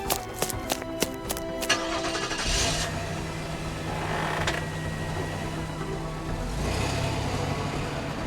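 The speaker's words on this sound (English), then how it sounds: "Get in your car and drive until you get there" A car engine cranks and starts after a string of sharp clicks, then idles and revs as the vehicle pulls away, a loud close engine rumble with no talk.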